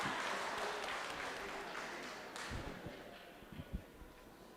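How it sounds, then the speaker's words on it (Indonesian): A crowd at an induction ceremony in a hall in Makassar claps in a warm round of applause that fades gradually, trailing off into a few scattered late claps; no voices over it. "Tepuk tangannya yang meriah."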